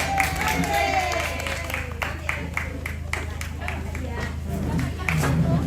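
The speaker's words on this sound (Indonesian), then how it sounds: "Oke, tepuk tangan sama dulu ya." A crowd at a church-building dedication contest applauds the prize winners, scattered claps and chatter rising and falling together with a voice speaking nearby.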